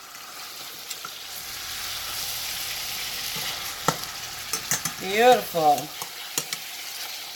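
Salmon fillets fry in a pan with a steady, close sizzle that stays level throughout, broken by a few sharp clicks and scrapes as the fish is flipped, with one brief spoken word over the sizzle.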